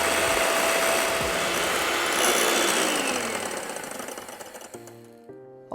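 An electric mixer whips egg whites until stiff for a frying batter, a loud steady whirring drone close by that fades in its last seconds and cuts off.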